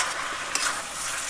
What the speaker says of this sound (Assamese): আলুখিনি যে ফ্ৰাই কৰি থৈ দিছিলোঁ সেইখিনি আমি দি দিম এতিয়া মিলাই